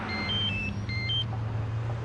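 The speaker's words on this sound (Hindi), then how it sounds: "ओ, फोन बज रहा है." A mobile phone rings with a quick pattern of short, high electronic bleeps over the steady low hum of a car engine, fairly faint, with no talking.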